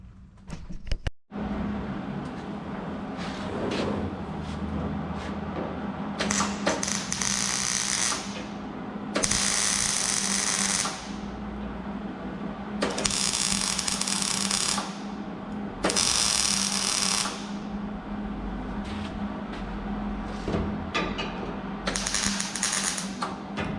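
A welder in use during a roof repair crackles and buzzes in several bursts of a few seconds each, set against a constant mechanical hum with no talking.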